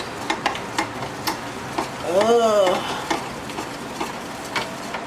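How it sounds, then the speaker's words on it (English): A pineapple and lime summer drink being mixed, with a spoon giving light, scattered ticks and clinks against the glass and a brief swirling swish in the middle, fairly quiet and close. "Now I'm just gonna mix it."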